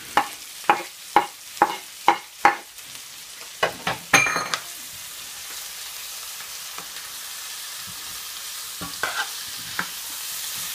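Chilies, garlic and ginger sizzling in hot oil for a home-style chicken curry, with a run of rhythmic spoon scrapes and stirs at first, then a steady soft frying hiss and a few later stirs.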